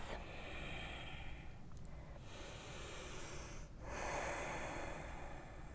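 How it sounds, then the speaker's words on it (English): Deep yoga breathing, with long audible inhales and forceful exhales through the nose in slow alternation, close and fairly quiet, with no talking. "Pushing the belly out on an inhale and sucking in on an exhale."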